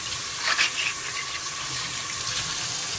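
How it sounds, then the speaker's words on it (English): Artichokes are washed under a running kitchen tap, giving a steady close hiss of flowing water with brief splashy surges as they are turned in the stream. "I go over and wash the outside."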